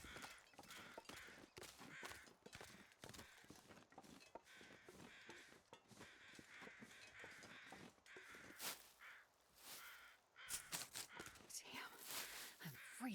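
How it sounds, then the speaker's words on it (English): Crows caw repeatedly in The Long Dark survival game, harsh calls spread across a quiet outdoor wintry scene with faint whispering and footsteps. "Yes, crows, we hear you. You can shut up now."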